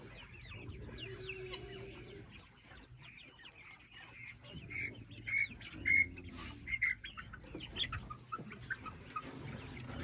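Coturnix quail inside a quail house on a farm give a busy mix of chirps, clucks and short calls, soft at first and then louder and denser, heard nearby with no talking.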